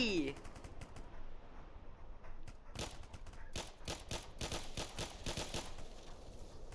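Gunfire in a Roblox zombie game: scattered single shots give way to rapid automatic bursts that grow denser, crisp and close, over a steady low background.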